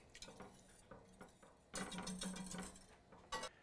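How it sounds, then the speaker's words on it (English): A whisk clinks against a bowl as a chili sauce mixture of sugar, chili powder, garlic powder and kosher salt is stirred, with quick metallic taps in bursts, then a pause and a final short flurry. "Just get this whisked up here."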